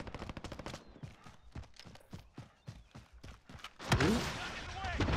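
Gunfire in the online shooter Call of Duty Warzone, a rapid run of sharp shots followed by a louder burst near the end, with players talking over it.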